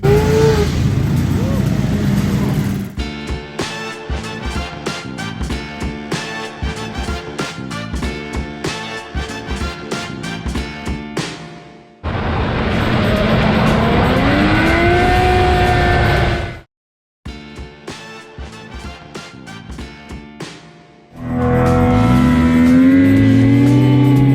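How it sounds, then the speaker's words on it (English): A homemade Mini Baja Bug engine revs loud and close while the buggy pulls wheelies down sand dunes, with repeated throttle bursts, a brief cutout, and a final surge. "Doing wheelies down the dunes."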